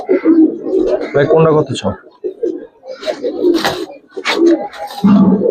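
Giribaz and coloring pigeons coo in a loft, soft throaty calls mixed under loud nearby conversation in Bengali.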